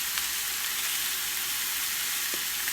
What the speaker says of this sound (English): As the meat is cooking